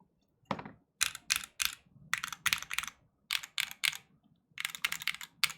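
Mechanical keyboard keys with audible plate resonance, struck in small clusters of three or four crisp clacks separated by short silences, close and alone.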